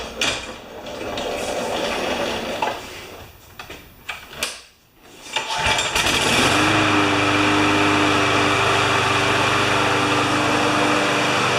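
A 20-inch Murray self-propelled lawn mower engine, a few clunks and sputters before it catches, then a loud steady close-up running drone that holds to the end.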